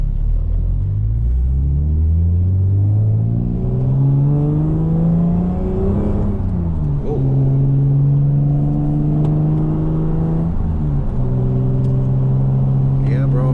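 A Lexus SC300 with a five-speed manual drones loudly from inside the car, its pitch climbing through gear changes as it accelerates, with a steady low rumble throughout.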